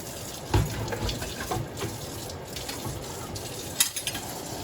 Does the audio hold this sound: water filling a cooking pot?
yes